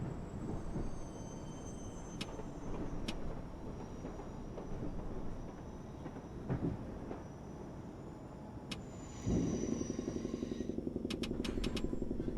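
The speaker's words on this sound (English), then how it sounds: "This is the number 7 local train to Main Street, Flushing." A New York number 7 local subway train to Main Street, Flushing, in World of Subways 4 gives off a steady low rumble and rolling rail noise, with a brief chime and a rhythmic clatter near the end.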